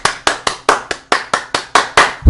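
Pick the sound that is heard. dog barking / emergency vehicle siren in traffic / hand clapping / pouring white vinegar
hand clapping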